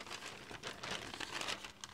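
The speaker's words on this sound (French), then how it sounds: "Donc nous avons des serviettes, du papier de riz." Rice paper and paper napkins being handled, a steady close crinkling and rustling that runs continuously for two seconds at a soft level.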